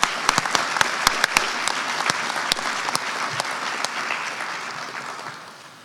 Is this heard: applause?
yes